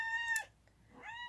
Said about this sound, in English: right now she's meowing because I'm not petting her.